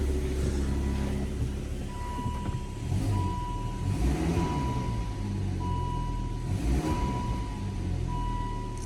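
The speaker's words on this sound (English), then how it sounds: "I'll give it a little rev here and see if it, now that it's adapted, it's running good." An M66 engine idling and revving steadily for about nine seconds, sounding slightly rough, with a low continuous rumble, periodic surges and a faint steady tone running through it.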